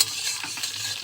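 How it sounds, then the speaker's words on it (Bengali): Raisins frying in a pan for fried rice, giving a close, brisk sizzle with light stirring scrapes, continuous and busy over about a second. "এখন কিশমিশ ভাজছি"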